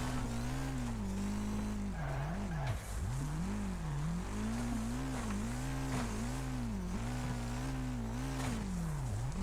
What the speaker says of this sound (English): There's a car coming here, yeah, and they braked as well, where they were trying to block our path.